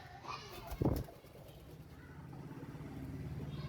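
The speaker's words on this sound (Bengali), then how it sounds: "প্রতিটা খোপের ভিতরে অনেকগুলো করে কবুতর।" Pigeons coo inside a coop crowded with birds, a soft rhythmic run of low throaty pulses that follows a brief rustling bump near the start.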